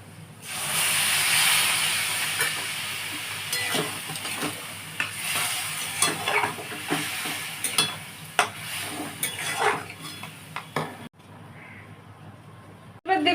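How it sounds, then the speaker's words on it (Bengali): A pan of coconut and potato curry hisses and steams as water goes in. The burst of sizzle settles into a softer bubbling hiss with intermittent spoon scrapes and clinks, close by and ending abruptly. "আমি জল দিয়ে দেবো এবারে"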